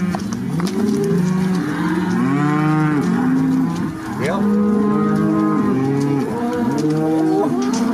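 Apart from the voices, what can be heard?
cows mooing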